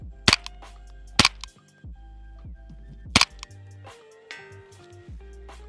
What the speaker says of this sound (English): We're gonna just try some offhand shooting.